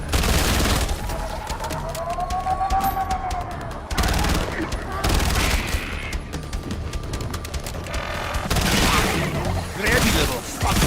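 Rapid bursts of gunfire ring out in Black Ops 7 Zombies, loud volleys and fusillades separated by short gaps, mixed with other game effects and a siren-like tone, while a person talks over them.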